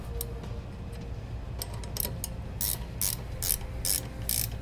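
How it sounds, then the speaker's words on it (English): A half inch ratcheting wrench tightens the bolts on a Kodiak trailer disc brake kit, giving close, sharp bursts of clicking in uneven repeated strokes over a low background hum. "Then we can come back with a half inch wrench and tighten them up."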